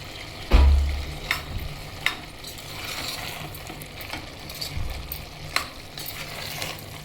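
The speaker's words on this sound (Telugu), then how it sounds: "ఇప్పుడు ముందుగా కడిగి ఉంచుకున్న కరివేపాకు వేస్తున్నాను." Curry leaves hit hot oil in a pan for a village-style broad bean and tomato curry, crackling in a sharp burst and then sizzling steadily, with scattered spatters and the clink of a stirring spoon.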